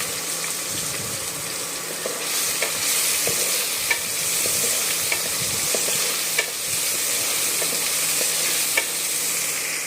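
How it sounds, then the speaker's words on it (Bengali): Tomatoes fry with green chillies in a pan while being stirred for a Bengali hilsa and eggplant dish, a continuous close sizzle broken by periodic scraping clicks of the spatula, no voices. "নাড়িয়ে নেব। অল্প টমেটো দেব।"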